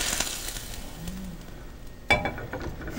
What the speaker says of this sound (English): Hope you can hear the sizzle on TV.